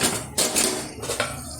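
Spoon stirring mixed vegetables with water and chopped coriander in a cooking pot, giving a few close clinks and scrapes of metal against the pot in short bursts.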